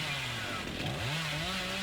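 Hillbilly's chainsaw revving during a sprint in the video game Dead by Daylight, a steady loud motor drone with rising and falling pitch sweeps through most of the moment, no talk over it.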